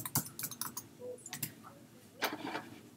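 Keys on a computer keyboard being typed in short bursts of sharp clicks, close and fairly quiet, with pauses between groups of keystrokes while a message is entered into an encryption program.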